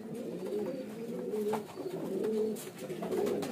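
A white-bodied Bajra pigeon cooing close by, soft low repeated coos that roll continuously through the short stretch with faint background noise.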